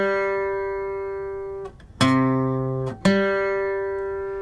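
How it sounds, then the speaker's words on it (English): A guitar plays a fifth, the opening of the Superman theme: a sustained note, then two sharply struck chords in quick succession ringing out, alone and fairly quiet. "the interval of a fifth"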